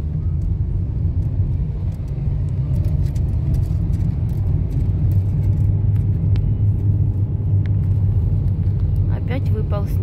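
A car climbs the road uphill to Boztepe in Trabzon, its engine a steady low rumble throughout, with faint clicks and rattles above the drone.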